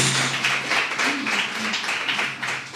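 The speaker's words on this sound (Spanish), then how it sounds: "Dale un aplauso al Señor con todo tu corazón" A church congregation claps steadily together in worship, a dense, continuous wash of hand applause filling the room with a faint voice underneath.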